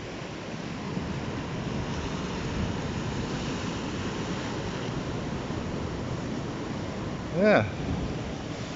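Ocean waves break on a beach down the road from a house in Karavados, heard as a steady roar of surf mixed with wind noise, with a brief spoken word near the end.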